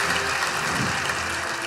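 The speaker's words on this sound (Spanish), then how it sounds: "Un fuerte aplauso." A live comedy show audience bursts into loud, dense applause, a continuous roar of clapping that stays even and full for its short duration with no talking over it.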